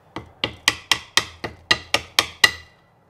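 A hammer rocking a guitar fret against an anvil gives ten sharp metallic taps in an even rhythm, close and clear, each ringing briefly before the next, with no voices.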